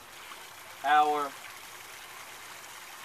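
Water flows steadily through a backyard aquaponics setup with three fish tanks, a swirl filter and a sand-filtered reservoir pumping up to the grow beds, a soft continuous trickle, with a voice speaking briefly over it.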